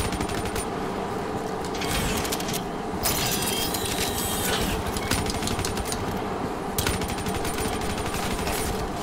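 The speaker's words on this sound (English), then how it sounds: "My sentry gun's in the worst position. It actually got a kill." Rapid automatic fire from a sentry gun in a first-person shooter, a dense, continuous mechanical rattle with sharper bursts standing out across the whole stretch.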